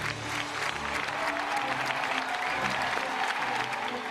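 A packed audience of about 3,000 people cheers and claps for a couple walking on stage, with dense, steady applause and screaming at full loudness throughout, no talk above it.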